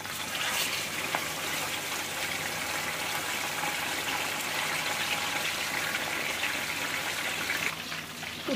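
Water pours steadily into a cooking pot of rice with vermicelli, a continuous rushing gush lasting several seconds before tapering off near the end.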